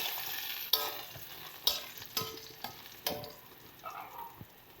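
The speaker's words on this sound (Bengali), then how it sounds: "চলো এটাকে আরেকটু ভেজে নেওয়া যাক।" Onion with a little turmeric frying in oil in a pan, quiet sizzling broken by several sharp stirring scrapes and clinks of a spatula at irregular intervals.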